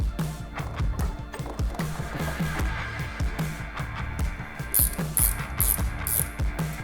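A ratchet turns a stock bolt back into a Harley Road Glide motorcycle floorboard mount, giving a run of quick, close mechanical clicks in short bursts with brief pauses between strokes.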